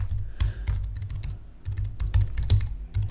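Rapid, steady typing on a computer keyboard, close and fairly loud, with dense clicking keystrokes and occasional heavier taps, no voices.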